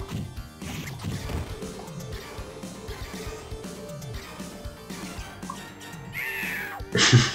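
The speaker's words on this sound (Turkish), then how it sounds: "Kedinin sese bak ya." A cat meows sharply near the end, following an arcade beat-'em-up game soundtrack with fighting effects and music that runs throughout.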